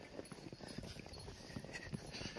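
Horse hooves clip-clop at an even walking rhythm during a ride in snowy Kashmir, faint and steady with no voices over them.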